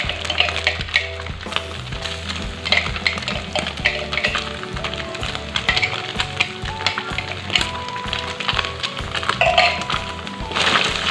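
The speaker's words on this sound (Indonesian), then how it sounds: "Kita tumis bumbunya sampai matang." Ground spice paste stir-fries in a pan for a rice box dish, steady loud sizzling broken by scraping spatula strokes and light clinks of utensil on metal, with a low hum beneath.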